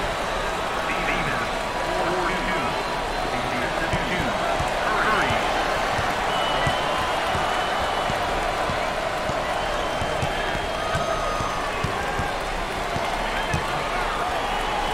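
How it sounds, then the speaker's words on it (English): A packed arena crowd at a Minnesota vs Illinois Big Ten basketball game roars in a constant dense wash, with sneaker squeaks and ball bounces underneath while a commentator talks over it. "Listen to the crowd."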